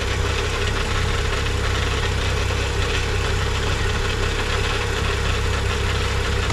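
A BMW N55 engine idles steadily during its break-in procedure, a close, constant low rumble with a faint ticking clatter and no voices.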